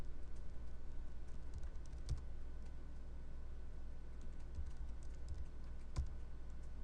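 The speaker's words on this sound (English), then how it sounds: "we're going to type in show interface" Fingers type a show interface command into a router session on a computer keyboard, a close, quiet run of steady keystrokes with a few heavier key taps standing out over a low hum.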